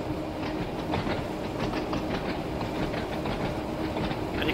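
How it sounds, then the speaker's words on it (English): A Class 483 electric train in the Train Sim World 2 game rolls steadily along the Ryde Pier Head to Shanklin line, with a continuous rumble and soft rhythmic clickety-clack of wheels over rail joints. "these Class 483s, were perfect for the London Underground. Easy to control, easy to stop."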